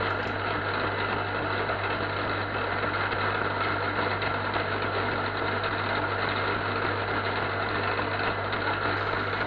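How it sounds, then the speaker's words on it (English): A milling machine cuts a steel center finder blade, giving a steady, continuous machine drone with a low hum that holds evenly throughout, close and moderately loud, with no talking. "During the milling operation"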